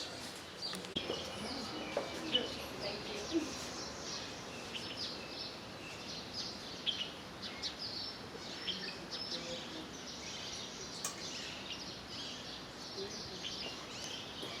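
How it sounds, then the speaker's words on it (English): Faint, scattered bird chirps and tweets drift over a quiet desert hush at the Emirates Palace Hotel, Abu Dhabi, distant and intermittent across the whole stretch. "when you hear the birds, you realize that you're in the middle of the desert"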